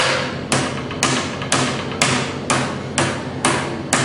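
A brass hammer strikes a steel hammer die while hand-flanging metal for a National hollow-neck tricone guitar: nine sharp, evenly spaced blows about half a second apart, each ringing briefly.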